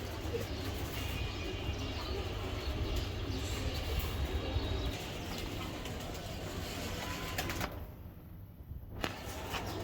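Male racer pigeons of Netherlands lineage coo in a low steady murmur over continuous background noise, with a distant rail-like rumble and no talking.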